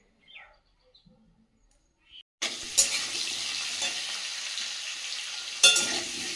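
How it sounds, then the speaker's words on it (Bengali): Leafy greens and potatoes fry in a pan, a steady loud sizzle that starts abruptly after a quiet stretch with faint bird chirps and continues evenly, with a brief stir near the end. "শাক আলু ভাজা হচ্ছে একদিকে"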